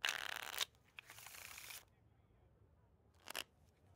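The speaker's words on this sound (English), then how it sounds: "the deck is shuffled, the other person deals, and we play another round." Playing cards shuffled in the Nancy Drew card game: a loud riffle burst, a longer softer shuffle after it, then a short snap near the end, with no talk.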